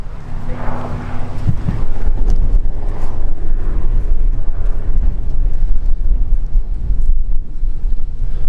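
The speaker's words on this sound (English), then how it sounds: "Very windy day today." Strong wind buffets the microphone outside a rusting mansion in Philippi, West Virginia, in a loud, continuous roar with gusty low rumbling throughout.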